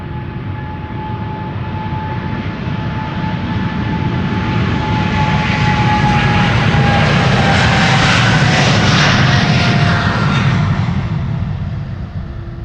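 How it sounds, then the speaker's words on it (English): An Emirates SkyCargo Boeing 777 freighter departing Amsterdam Schiphol Airport, its jet engines building into a loud, continuous roar with a faint whining tone that peaks and then slowly eases as the aircraft passes. "Now we're starting to hear the 777's engines."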